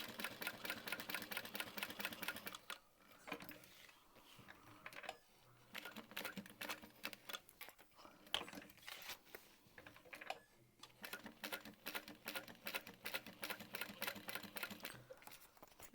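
A sewing machine stitches a handbag in bursts of rapid mechanical needle chatter, with brief pauses between runs and a quieter, slower passage in the middle.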